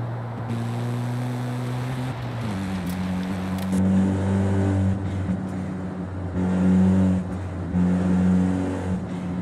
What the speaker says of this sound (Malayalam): റോട്ടറി എഞ്ചിൻ ആയതുകൊണ്ട് ഒരു പ്രത്യേക സുഖമാണ് കേൾക്കാൻ.